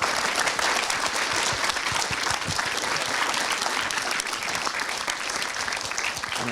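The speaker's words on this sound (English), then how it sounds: "Let's clap for our panel." An audience applauds a panel at the SAGE Advice 2025 games conference. The clapping is steady and dense, a full room of hands, with no talking.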